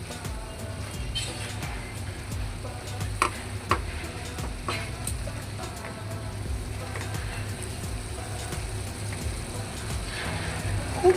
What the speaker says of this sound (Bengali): এখন ভালো করে কষিয়ে নিতে হবে